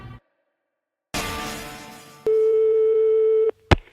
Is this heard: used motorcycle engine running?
no